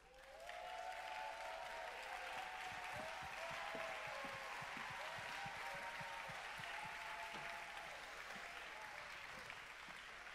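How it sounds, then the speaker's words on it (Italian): Large crowd at the Locarno film festival opening ceremony applauds continuously for the new artistic director, a broad steady roar of clapping with some low thumps beneath it, heard from a distance. "questo applauso è tutto per te"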